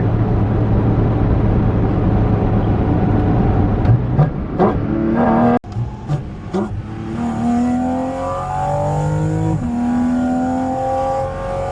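A Porsche GT4 RS pulls hard through the gears, its engine note climbing with each rev sweep and briefly dropping at the shifts, loud and close from inside the cabin with no talk over it.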